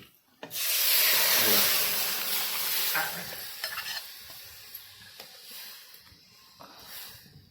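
A fish chutney mixture poured into hot tempering over a wood-fired stove, bursting into a loud sizzle that slowly fades, with occasional stirring scrapes and clicks.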